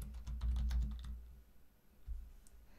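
Fast, light typing on a computer keyboard while entering an effect name in Adobe After Effects, with a quick burst of clustered key clicks, a brief pause, then one or two isolated taps, close and fairly quiet.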